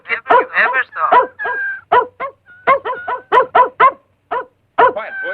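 A small dog barks and yips repeatedly in an old radio drama recording, a rapid run of sharp barks with brief pauses, close and loud, with what sounds like a voice mixed in among the barking.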